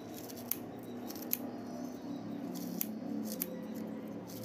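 Scissors snip green garlic leaves into small pieces in a kitchen, a series of faint, sharp clicks spaced irregularly over a steady low background hum.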